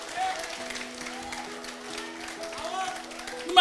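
A church congregation claps together through a steady wash of applause, with a sustained musical tone and some voices running underneath.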